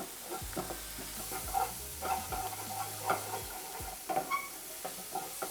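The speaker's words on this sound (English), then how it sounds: "I'll just cook out those spices and herbs for around a minute" Spices and herbs cooking in a pan while vegan sausages are made: a soft, steady sizzle with gentle stirring scrapes and light clicks, fairly quiet and without talk.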